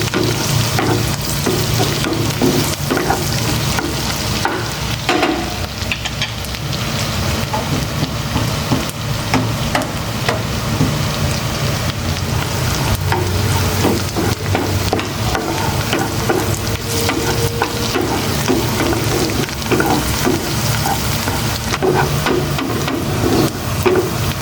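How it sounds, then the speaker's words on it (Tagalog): Garlic and onion fry in a pan at home, a loud continuous sizzle with stirring and scraping scattered throughout, steady and close with no talking. "Ipabrown ko ng konti itong bawang."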